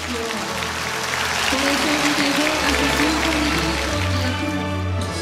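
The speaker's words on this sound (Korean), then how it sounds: "목회자들은 놀라워했고 큰 박수가 터져나왔습니다" Large gathering of pastors bursting into big applause at a church conference, a dense, steady wall of clapping from a crowd, with voices mixed in underneath.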